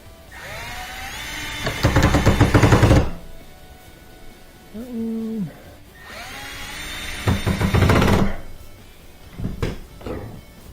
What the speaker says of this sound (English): I'm gonna put these screws back in.